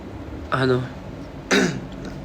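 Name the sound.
cough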